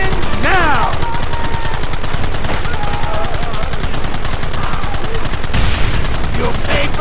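Heavy, sustained gunfire in the video game Red Dead Redemption pounds loudly and continuously throughout, while shouting voices rise briefly over the shooting.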